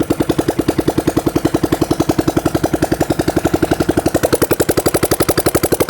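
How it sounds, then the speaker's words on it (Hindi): A Hero Karizma ZMR motorcycle's electric starter cranking the engine with a fast, even mechanical pulsing that runs for about six seconds, close and loud, without clearly catching and settling into an idle. "अभी हम आपको सेल्फ स्टार्ट दिखा रहे हैं"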